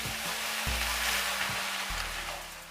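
Fish head being stirred in a pan with pumpkin and malabar spinach, a steady close sizzle of frying with soft scraping stirs over about three seconds, no voices.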